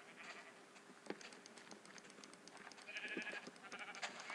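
Sheep bleating in the video game Minecraft, a few short bleats over a steady murmur of game ambience, no talking.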